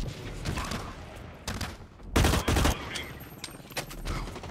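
Rapid bursts of gunfire from the shooter game Blacklight Retribution, several clustered volleys with the loudest, heaviest pair of shots in the middle, all fairly close and sharp, trailing off into scattered lighter shots.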